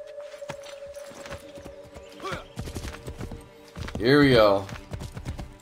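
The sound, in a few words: horse galloping, from the video game Assassin's Creed 3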